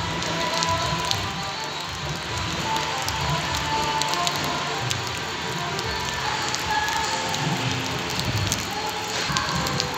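Steady, dense hiss of heavy rain with wind pouring down and drumming on surfaces at a factory in Jagadhri, constant throughout with no talking.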